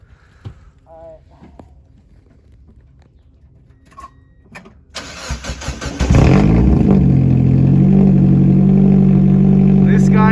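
A 1999 Mazda Miata NB with a muffler delete cranks and fires up, then roars into loud, sustained revving close by; scattered voices and small noises come before the start.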